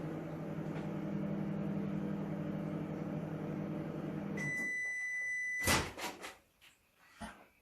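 A 900 watt microwave oven hums steadily while running, then cuts off and sounds a short series of sharp electronic beeps, followed by faint handling clatter.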